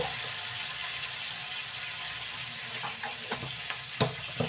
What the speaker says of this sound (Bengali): আলুগুলোকে ভেজে নিই।